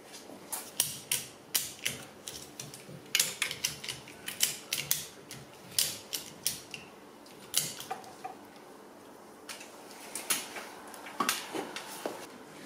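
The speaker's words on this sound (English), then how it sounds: "Right, I better winch her up a fraction." A winch ratchets as it lifts a Triumph Bonneville motorcycle in a workshop, giving faint, irregular mechanical clicks and clacks in quick succession with no talking.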